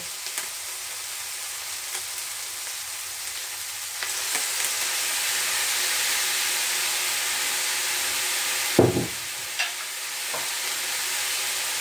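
Vinegar sizzles and hisses in a pan of chicken pastil, a steady broadband frying hiss that grows louder after a few seconds, with a few light clinks and a brief stirring scrape.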